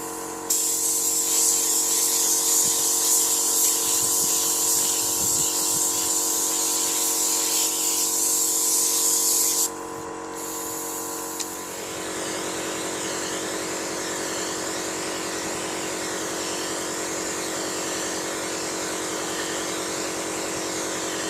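A spray gun lays 2K base coat paint onto a scratched car panel, a loud continuous hiss for about ten seconds that cuts off, followed by a lower steady mechanical hum as paint is built up slowly.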